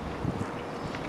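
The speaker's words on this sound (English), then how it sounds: "It's going to be windy all afternoon." Wind gusts buffet the microphone at a lake in a constant rumbling roar, brief and loud with no voices.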